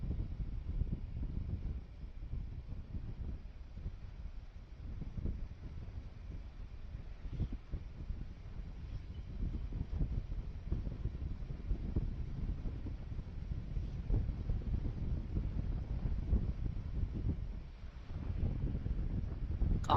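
Strong wind buffets the microphone while riding a motorbike on Mettupalayam road, a continuous loud low rumble with gusty surges that runs the whole time, with no voice heard.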